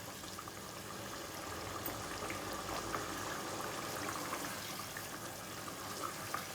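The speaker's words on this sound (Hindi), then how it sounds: "अब मैं इसकी भुनाई कर रही हूँ, इसका पानी ड्राई कर लूँगी" Beef simmering and being sautéed in a pot for haleem as its cooking water cooks off, a soft continuous bubbling sizzle at low level with no talk.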